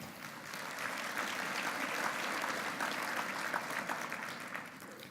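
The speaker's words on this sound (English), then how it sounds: "So please give yourselves another round of applause." Sustained applause from a charity luncheon audience fills the room, steady dense clapping that swells slightly midway and holds at moderate loudness without a break.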